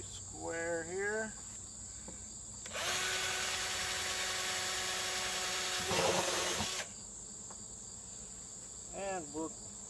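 A power drill bores through the side of a plastic 33-gallon barrel, a loud, steady whine lasting about four seconds, with brief speech before and after it.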